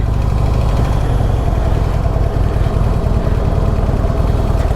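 Harley-Davidson CVO ProStreet Breakout engine running steadily, a continuous low throbbing rumble with constant vibration and no voices.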